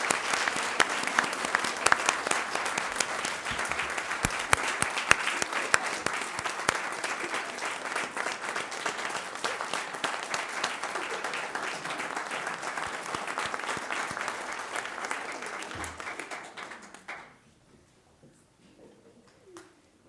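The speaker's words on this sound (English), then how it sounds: "we'll give them one more round of applause" Sustained applause from the audience at a board of education meeting, given to the finalists. The dense, even clapping carries for about seventeen seconds, then fades out into near silence.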